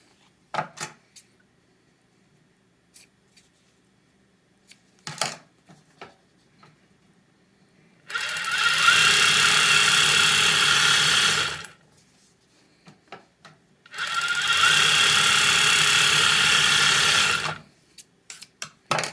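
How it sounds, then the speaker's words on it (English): A Merrow sewing machine running during a thread tension test: two long, loud bursts of fast stitching whir, each several seconds, separated by quiet stretches with scattered clicks and handling taps. "That is how you can do a tension test on your Merrow machine"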